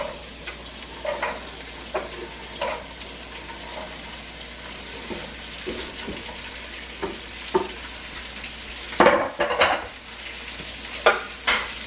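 Onions, carrots and celery sizzle in rendered pancetta fat in a pan, a continuous close hiss broken by repeated scraping stirs and a louder burst as vegetables are turned.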